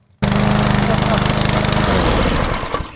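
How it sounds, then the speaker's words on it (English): A PowerSmart 22-inch self-propelled gas lawn mower runs close and loud with a steady throbbing engine drone that starts abruptly, then shifts in pitch near the end. "It's been a long time since I had a gas mower."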